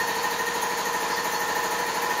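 A Kobalt 175 psi two-stage air compressor running in a garage, a steady, even mechanical drone with a constant pitch and no pauses.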